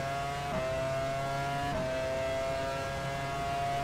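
A Formula One race car engine in F1 Challenge 99-02, racing the 2000 Australian Grand Prix, howls at a steady high pitch, with two quick gear changes briefly dropping the tone before it climbs again, continuous and close.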